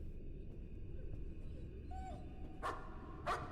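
Dog barking in a horror video game: two short, faint barks near the end, heard over a low, dark ambient drone.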